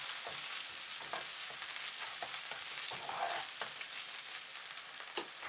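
Eggplant stir-frying with chili and seasoning sauce in a hot wok, a steady bright sizzle with intermittent scraping stirs and small pops throughout.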